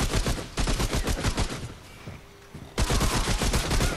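Rapid bursts of automatic gunfire from weapons in the video game Remnant: From the Ashes, loud and dense, pausing briefly before resuming in a fresh volley.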